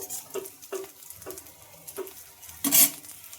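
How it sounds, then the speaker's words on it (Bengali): Onions and green chillies sizzle lightly in a pan for ghugni, with a soft hiss broken by a few evenly spaced spoon taps and one louder scrape near the end. "পেঁয়াজগুলো হালকা করে ভেজে নেবো"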